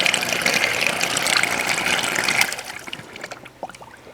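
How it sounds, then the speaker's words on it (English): A repaired Wayne PTU30 pedestal pump runs and pushes water, a loud steady gushing rush for about two and a half seconds, then easing into gurgling trickles and drips. "And here's the reassembled pump."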